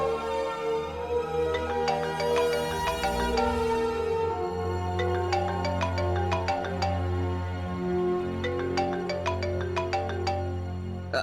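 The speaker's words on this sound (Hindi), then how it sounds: "भैया, रिंग होने वाला फोन छोटी भाभी का है भैया।" A phone ringtone plays a repeating electronic melody of bright chiming notes over a steady tone, continuous and fairly loud with no voices.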